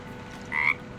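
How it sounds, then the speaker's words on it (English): A single short frog croak in Baldur's Gate 3, clear and mid-loud over a quiet ambient background. "Let's go and say hi to the frog."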